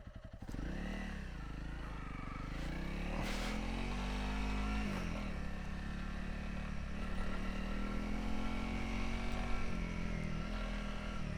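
A motorcycle ridden on a Japanese road runs steadily close by for the whole stretch, its engine droning and shifting pitch as it speeds up and eases off. No one speaks.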